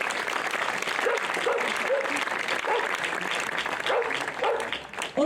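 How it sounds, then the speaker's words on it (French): An audience applauds during a speech at the Saint Erige festival in Auron, a sustained crowd of clapping hands with some voices mixed in, tapering off near the end. "Donc vous pouvez l'applaudir."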